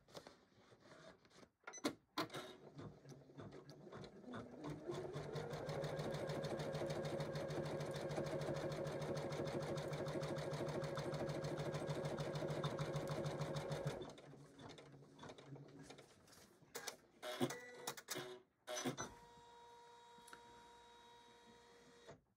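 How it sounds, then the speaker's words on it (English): An embroidery machine sews a straight line across a Christmas stocking in the hoop, humming steadily up close for several seconds before stopping, followed by a few short clicks and mechanical movements. "now it's going to do a stitch line right across here to separate the bottom from the top of the"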